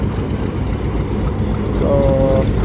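A railway power van that came in with the 12 Down and whose engine had failed is shunted at busy Rawalpindi station. The train rumbles loudly up close, a brief horn note sounds near the end, and voices talk underneath.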